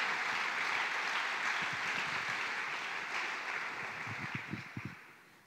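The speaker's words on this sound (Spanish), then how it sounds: "Dale ese aplauso a Jesús" Church congregation applauding for Jesus during a sermon, a dense sustained wash of clapping that fills the room, steady for several seconds and then thinning toward the end as a few individual claps stand out.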